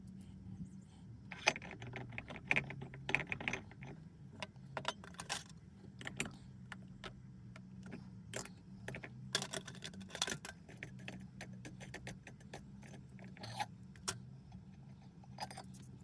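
Small metal clicks, taps and light scraping as a check valve is threaded back into the fuel fount of a Coleman Peak 1 stove, irregular and close over a low steady background hum.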